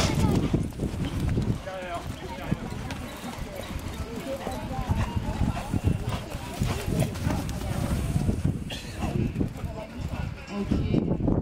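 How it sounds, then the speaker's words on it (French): A horse canters on the left lead over ground with steady clip-clop hoofbeats throughout, close and fairly loud, while people talk over them. "Rollback, départ au galop à gauche"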